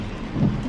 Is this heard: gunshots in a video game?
no